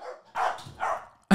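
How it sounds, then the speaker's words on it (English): A dog barks in three loud bursts, the last one sharp and loudest, with short quiet gaps between them. "that was the loudest bark I've ever heard from Fiona so far"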